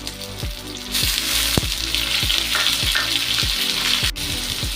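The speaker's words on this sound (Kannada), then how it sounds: "ಈರುಳ್ಳಿನ ಉರ್ಕೊಳ್ಬೇಕು ಈಗ ಇದಕ್ಕೆ ಟೊಮೊಟೊ ಹಾಕೊಳ್ತೀನಿ" Onions and tomato fry in oil in a pan with a steady, close sizzle, broken by a regular series of soft spatula taps against the pan.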